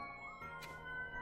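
Emergency sirens wail outside a home, faint and distant, a sustained tonal siren held steady at low volume with a brief burst of hiss partway through.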